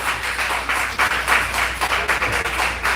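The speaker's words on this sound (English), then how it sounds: "Let's give DJ Rick a round of applause." A crowd at a Black gay Atlanta Pride press conference claps steadily, a dense continuous patter of many hands close by with no voices over it.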